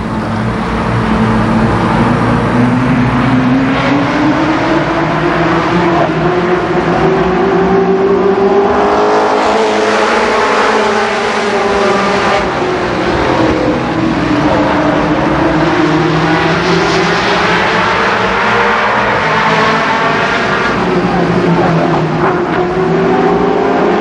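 Race cars roar around the oval at Columbus Motor Speedway, a loud, dense wall of engine noise whose pitch swells and falls as the pack circles, with no talking.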